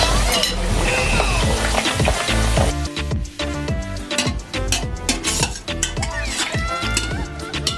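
Chicken pieces frying in oil in a pot for Turkish-style maqluba, a steady loud sizzle with stirring and the clatter of utensils against the pot throughout.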